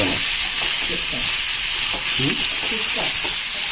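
Finely chopped tomato frying in a pan gives a steady, close hiss and sizzle throughout, with faint scattered clinks and stirring sounds underneath.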